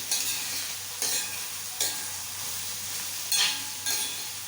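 Mutton fried rice with scrambled egg stirred in a hot pan: a steady sizzle broken by about five sharp spatula scrapes at irregular intervals, close and clear.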